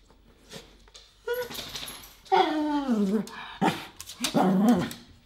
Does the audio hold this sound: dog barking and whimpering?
yes